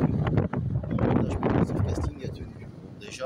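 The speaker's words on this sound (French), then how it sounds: "le vent commence à se lever" Wind gusts across a beach during surf-casting fishing, buffeting the microphone in a steady rough roar with a few sharper bumps, while someone talks over it.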